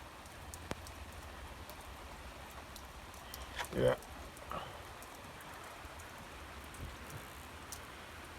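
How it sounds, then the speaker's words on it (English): Slow, steady rain falling outdoors on a farm with garden and cattle, a faint, even hiss throughout with a few soft drips, while someone briefly says a word near the middle. "appears to be a nice, slow, steady rain though"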